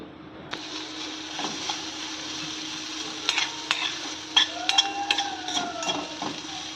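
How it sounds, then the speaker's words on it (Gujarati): A spoon stirs drumstick soup ingredients in a pan after salt goes in, soft scraping and sizzling with a few sharper clinks of utensil against metal, close and fairly quiet. "નિમક નાખી અને થોડુંક હલાવી અને 2 મિનિટ માટે ઢાંકણ ઢાંકી દઈ."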